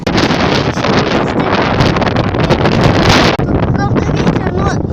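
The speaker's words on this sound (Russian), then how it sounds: "Правда ветер, но..." Strong wind buffets the microphone in a loud, continuous roar with broadband rumble and gusting, near and overwhelming, dropping briefly before resuming with faint higher sounds underneath.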